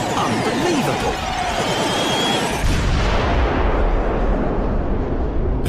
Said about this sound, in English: readied its plasmic lasers to destroy the Earth. Fire!